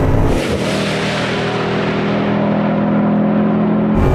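A Bugatti hypercar's engine pulls hard at very high speed, a loud, sustained roar that climbs steadily from inside the car, rising in pitch as it accelerates with no one speaking.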